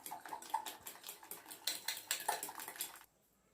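Brownie batter with egg and vanilla essence is stirred in a bowl, giving repeated scraping and clinking strokes of a utensil against the dish in an uneven rhythm, close and fairly loud, ending abruptly into near silence.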